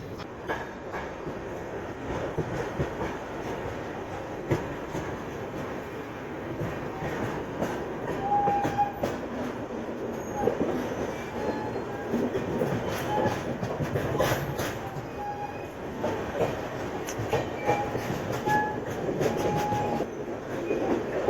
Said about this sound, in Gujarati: બસ આપણી ટ્રેન ઉપડી ગઈ છે આગળ।